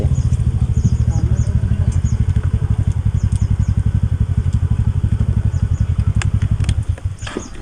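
A motorcycle idling close by as it is parked at a factory campus during a ride, a rapid steady loud thumping putter that sputters and cuts out near the end.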